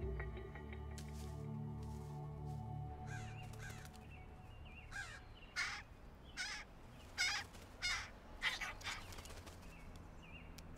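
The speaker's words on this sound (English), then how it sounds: "Crows have different warning calls, one for cats and one for hawks and another for humans." Wild crows caw repeatedly in a loose series of harsh calls, several loud and close, over a steady low background hum.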